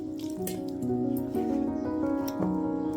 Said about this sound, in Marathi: थोडा घट्टसर गोळा मळायचा आहे त्याप्रमाणे हळूवार जसं लागेल तसं आपल्याला पाणी मिक्स करून घ्यायचं आहे